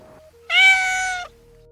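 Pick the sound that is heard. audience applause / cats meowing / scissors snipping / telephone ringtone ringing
cats meowing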